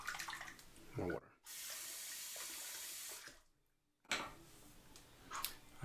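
Water runs from a tap into a sink during a wet shave with a vintage Gillette razor, a steady close hiss that stops abruptly, then gushes again after a short silence.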